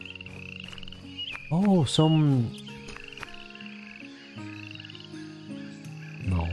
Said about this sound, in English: You can listen to the frogs.